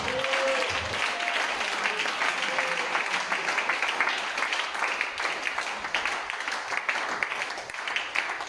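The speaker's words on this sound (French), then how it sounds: "On va acclamer le Seigneur." A church congregation breaks into sustained, dense applause acclaiming the Lord, a loud continuous roar of clapping hands with a few voices mixed in.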